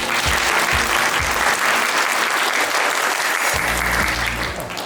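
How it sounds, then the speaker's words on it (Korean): Audience at a Korean job-academy talk concert claps loudly and continuously to welcome panelists onto the stage, a steady dense round of applause with low music thumps underneath. "큰 박수 부탁드리겠습니다."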